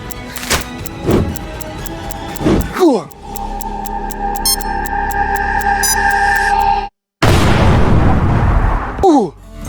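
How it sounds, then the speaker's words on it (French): A loud, broad cartoon explosion bursts in after a sudden moment of silence and rumbles for about two seconds. Busy animated sound effects and voices come before it. "Quelle explosion!"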